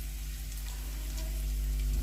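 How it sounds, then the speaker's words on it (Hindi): Onion, garlic and ginger fry in oil over a medium flame, giving a steady, close sizzle with a low background hum. "मीडियम फ्लेम पर अच्छी तरह से सब्जियों को भूनें।"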